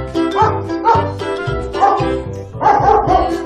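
A dog barks in several loud, close bursts spaced about half a second apart, with a few shorter yips mixed in, heard on its own in a children's alphabet song.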